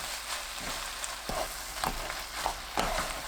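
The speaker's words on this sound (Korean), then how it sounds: "양파가 익으면 양념 넣고 약불로 2분 볶습니다." Fish cake, onion and sauce stir-fried in a pan over low heat, a soft continuous sizzle broken by a few scraping stirs, close but quiet and without talk.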